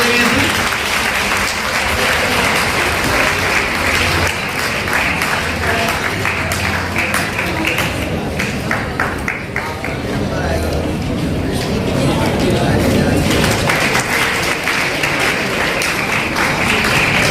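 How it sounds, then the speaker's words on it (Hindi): An audience at a medical college celebration breaks into sustained, loud applause from a large crowd, with a murmur of voices mixed into the clapping throughout. "तो तालियां बजाएं।"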